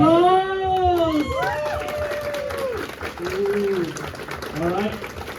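Live game-show audience at a tabletop gaming convention bursts into loud applause and cheering, with shouts and voices rising over the clapping throughout.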